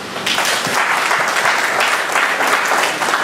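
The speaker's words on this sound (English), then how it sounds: "So please give them a round of applause" An audience at a Veterans Day celebration gives a round of applause, a full, even roar of clapping hands sustained from start to finish.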